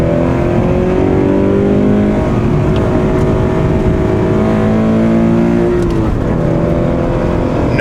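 A modified 2017 Subaru BRZ, stock at 205 horsepower but now with more power, accelerates hard to pass another car in a passing lane, its engine note loud, steady and rising under constant road and wind noise.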